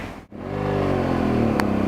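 A car engine revs up loudly after a brief dip, holding a strong, steady exhaust roar with rising harmonics close by.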